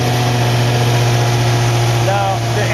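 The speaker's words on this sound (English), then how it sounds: "Now the engine has run" A small engine, just started with choke and throttle set, settles into a steady idle, loud and close with an even, constant hum throughout.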